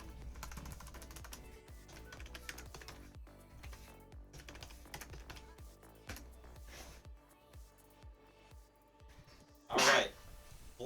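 A single loud sneeze bursts out near the end, over quiet background clicking of computer keyboard typing.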